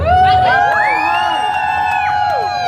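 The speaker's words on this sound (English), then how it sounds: "Wow, nice crowd you got here, huh?" Crowd at Avengers Campus, Disneyland Resort, cheering and whooping in a brief, loud burst of rising and falling shouts lasting a few seconds.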